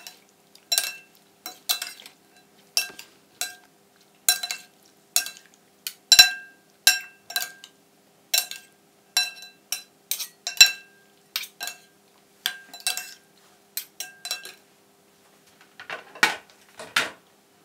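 Repeated light clinks and scrapes of utensils tossing a Thai fermented pork sausage (naem) salad in a bowl, irregular taps spaced about a second apart, close and fairly quiet.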